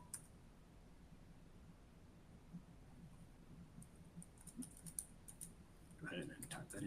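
Clicking keystrokes on a computer keyboard while entering item numbers into warehouse management software, faint and scattered at first, then a quicker, louder burst of typing near the end over a low hum.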